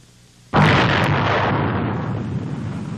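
A Nike Zeus anti-ballistic missile fires at launch, a sudden loud blast that becomes a sustained broadband rocket roar, slowly easing over the next seconds with no voices.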